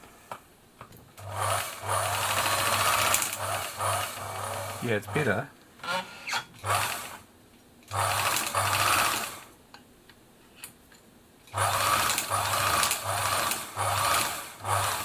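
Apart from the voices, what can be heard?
Singer 760 sewing machine running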